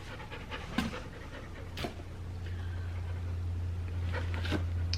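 A freshly groomed dog wearing a bandana pants rapidly and close by, quick breathy puffs with a few sharper snorts, over a low steady hum in the room.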